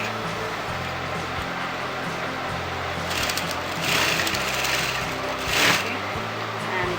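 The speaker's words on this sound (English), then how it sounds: "Start from sewing from the shoulder." Close up, a sewing machine runs continuously, stitching a blouse from the shoulder down, with a steady whirring hum and slight variations in speed throughout.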